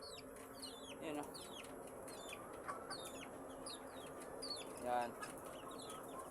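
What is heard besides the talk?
chickens clucking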